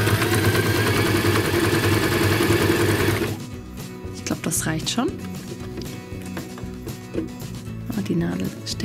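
A new sewing machine runs a zigzag stitch as a loud, steady mechanical whir for about three seconds, then stops, leaving light handling clicks and someone talking.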